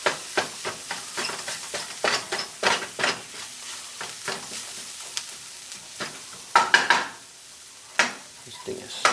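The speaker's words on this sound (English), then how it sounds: "And we're going to add our tomatoes." Tomatoes go into a sizzling pan of Jamaican lentil curry and are stirred, with repeated close scraping of the utensil against the pan over a continuous frying hiss.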